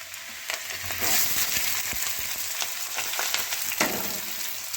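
Chopped ginger and onion frying in hot oil in a pan for eggplant bharta, a dense, even sizzle with a few soft stirring scrapes, close and continuous with no voices.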